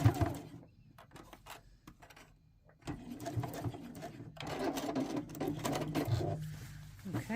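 A sewing machine basting fabric with a long 4mm stitch, soft clicks at first, then a run of quick mechanical whirring stitches close by, with a faint voice in the background.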